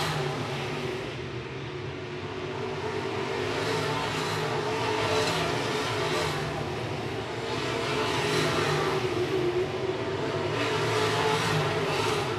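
IMCA modified race cars roar around the I-76 Speedway dirt track, a dense, continuous engine drone that swells and recedes as the pack passes, loud and without talk.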